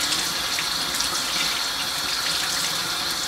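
Tap water runs steadily into a sink while a makeup sponge is rinsed, a close, constant splashing stream with no pauses or talking.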